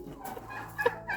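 A farm turkey lets out a brief, faint gobble against quiet background noise, a single short warbling call.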